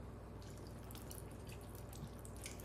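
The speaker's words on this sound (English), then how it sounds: "Here's a water bottle, and I will put some water on the washcloth." Water poured from a plastic water bottle onto a washcloth, a soft continuous trickle and splatter heard faintly and steadily throughout, with no voices.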